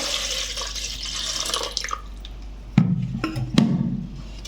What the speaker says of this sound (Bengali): এবার একটা দেশগির মধ্যে পানি নিলাম